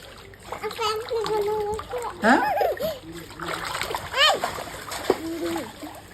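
A child splashing in water while playing and swimming outdoors in the morning; repeated close splashes and sloshing come in bursts, with a voice and an adult talking over them.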